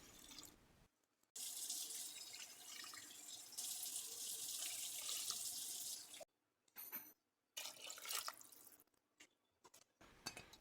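Water runs from a tap into a soup pot in a steady stream for several seconds, then stops and restarts in short bursts, close by and with no voices.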